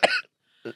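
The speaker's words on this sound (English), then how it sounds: "You probably want to tap to that cough, mate." A person coughs twice at close range, with a harsh, loud first burst and a shorter, softer second cough after a brief silence.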